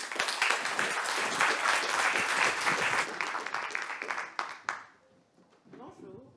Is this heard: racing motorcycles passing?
no